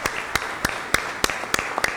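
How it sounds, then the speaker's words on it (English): Hand claps from a sparse audience at a business forum in Waterloo, Iowa, applauding the panelists: about eight distinct, evenly spaced sharp claps, close and moderately loud, over a quiet room. "I'll give our panelists one more round of applause for being here tonight"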